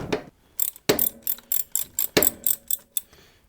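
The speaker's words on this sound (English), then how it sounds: "Have your 5/8 ratchet set to lefty-loosey" A 5/8 ratchet loosening the oil drain plug on a Harley-Davidson M8 Softail during an oil change, giving two short bursts of rapid metallic clicks, each a run of about six to eight close, sharp ticks, with no one speaking.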